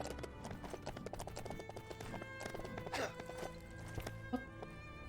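Hooves clip-clop in a busy rhythm from a horse in the Lego The Lord of the Rings video game, with a short whinny partway through, quiet and layered over game music.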